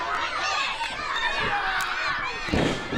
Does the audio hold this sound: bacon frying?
no